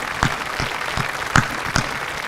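Audience at a school senior awards ceremony applauding staff and students, a short burst of dense clapping from a crowd, moderately loud with a few sharper individual claps standing out.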